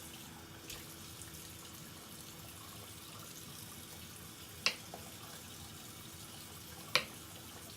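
Tap water runs faintly and steadily into a sink while the face is wetted, with two small sharp knocks partway through.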